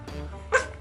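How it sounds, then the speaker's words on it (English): Miniature Shih Tzu puppies let out one short, high yip near the middle, close and moderately loud over a soft background murmur. "look at these little beautiful little puppy doggies. Little miniature Shih Tzus."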